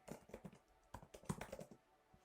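Light tapping on an iPad keyboard gives a short burst of soft, irregular clicks, close and quiet, with no voices over them.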